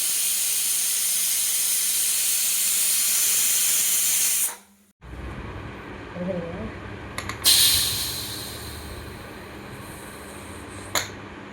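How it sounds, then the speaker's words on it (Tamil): A pressure cooker holding mushroom biryani vents its steam in a loud, continuous hiss that cuts off abruptly, followed by quieter bursts of steam, clicks and handling noises. "ப்ரெஷரை ரிலீஸ் பண்ணிவிட்டு குக்கரை இப்போ ஓப்பன் பண்ணிக்கலாம்"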